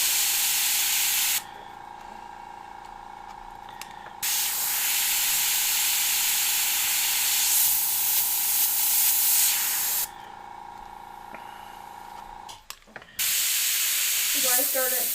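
An airbrush sprays paint onto a stencil with a close, steady hiss that cuts off and restarts in several bursts, with a faint tonal hum running under it and brief rustling near the end.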